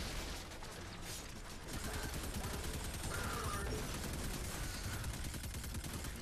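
Rapid gunfire in the sci-fi shooter Destiny 2, a steady stream of fast shots beneath dense game noise, continuing without a break for several seconds.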